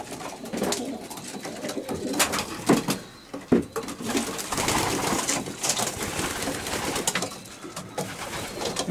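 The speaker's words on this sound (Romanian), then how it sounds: "Este un porumbel de Van Hey." Racing pigeons coo in a loft in Romania, a busy close chorus of soft throaty coos and rustles with occasional wing flaps, steady and moderately loud throughout.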